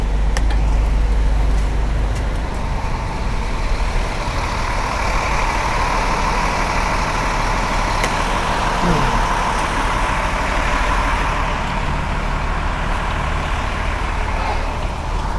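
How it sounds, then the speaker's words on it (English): A white truck idles with a low, steady diesel rumble as it tries to squeeze past a double-parked truck in street traffic, loud and close throughout. "this white truck is trying to squeeze on by"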